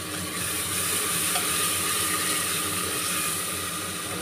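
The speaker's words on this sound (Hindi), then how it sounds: "तो अब डालते हैं इसमें टमाटर, 1 बड़ा टमाटर काट के डाला है मैंने," Chopped tomato goes into a hot frying pan of oil and asafoetida for chole, giving a steady, close hiss of sizzling with faint stirring throughout and no talking.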